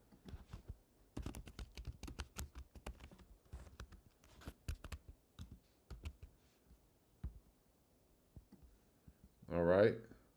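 Quick bursts of clicking keystrokes on a computer keyboard, typed in short irregular runs close by, ending with a brief louder rustle.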